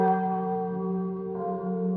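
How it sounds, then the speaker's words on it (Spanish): The bells of the monumental clock in Pachuca ring with a sustained, resonant metallic tone that hangs and slowly decays, with a second stroke entering midway. "sonaban por primera vez las campanas del reloj monumental de Pachuca"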